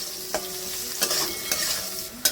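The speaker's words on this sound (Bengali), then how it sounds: "প্রথমে আমি আলু ভেজে নিচ্ছি, ডুমু ডুমু কেটেছি।" Diced potatoes with salt and turmeric fry in mustard oil, a steady close sizzle punctuated by four distinct scraping stir strokes of a spatula against the pan.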